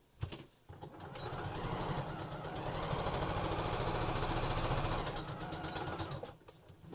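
A sewing machine stitches a fabric face mask in one continuous run of rapid, even needle strokes lasting several seconds, close and moderately loud, starting and stopping cleanly with a brief handling bump at the start.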